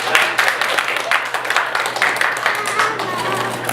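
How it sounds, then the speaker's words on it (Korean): Guests at a baby's first birthday party applaud loudly, with close, distinct handclaps forming a dense, uneven patter that continues throughout. "박수 크게 다시 한번 부탁드립니다"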